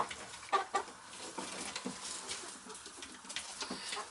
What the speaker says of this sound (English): Here comes the other rooster.